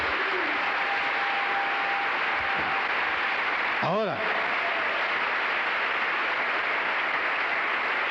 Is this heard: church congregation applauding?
yes